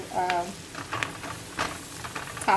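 Flour being stirred into hot frying oil to start a gravy after frying pork chops, with a series of scraping stirs over a steady sizzle, fairly close and moderately quiet.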